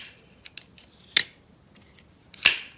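Cold Steel Luzon large folding knife on smooth bearings, flicked open and closed: a few light clicks followed by two sharp, close metallic thwacks as the blade snaps into place, each ringing briefly in otherwise quiet surroundings.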